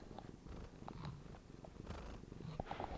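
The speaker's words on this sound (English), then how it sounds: "She purred for you all." A cat purring softly and steadily up close, a low continuous rumble with no talking over it.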